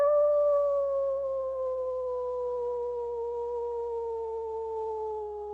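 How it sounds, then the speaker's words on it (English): A long, smooth howl like a wolf's, steady and sustained with a slowly falling pitch, heard loud and alone against a faint low hum. "Howl now in this moment."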